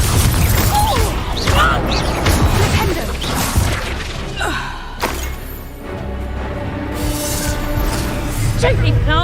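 A Confringo spell blast in Hogwarts Legacy sounds out within a dense, loud stretch of game combat, with crashes, thuds and whooshes, and character voices talking over the action.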